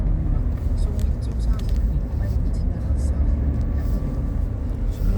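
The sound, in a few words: small car driving at 55 km/h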